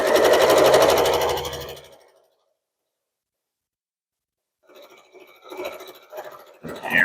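Sewing machine stitching a long quilt strip for a pot holder hums loudly and steadily for about two seconds, then falls silent before resuming in shorter, uneven bursts.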